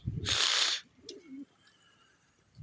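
Domestic pigeons kept as breeding birds coo softly nearby, a few low murmuring calls around a loud burst of broadband noise like flapping wings, with faint chirps behind.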